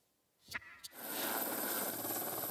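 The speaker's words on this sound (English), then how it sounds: "13 helicopters are working this fire, entering day 11." A helicopter works a forest fire, its broad rotor and engine roar rising after two sharp knocks and then holding steady and loud.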